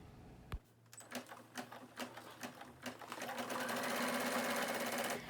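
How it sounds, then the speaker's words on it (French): A Brother SE1900 embroidery machine stitches a design onto a tote bag, its needle tapping in a steady rapid mechanical rhythm that builds into a continuous close whir. "La brodeuse que je possède s'arrête toute seule à chaque changement de couleur"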